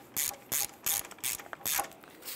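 A hand ratchet snugs down radiator bolts on a 2005-2010 Chrysler 300 in five or six short, crisp bursts of clicking, each separated by a brief pause, close by and moderately loud.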